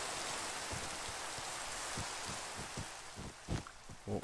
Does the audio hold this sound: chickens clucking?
no